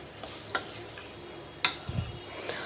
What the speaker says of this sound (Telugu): మొత్తాన్ని మిక్స్ చేస్తున్నాను